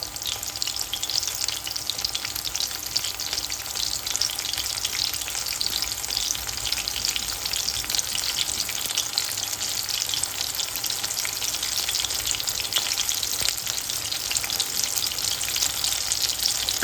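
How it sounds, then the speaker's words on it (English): A Polish breaded chicken cutlet fries in hot oil in a pan, giving a loud, continuous hissing sizzle with crackly bursts throughout and no talking. "here we are starting to already feel as it is frying"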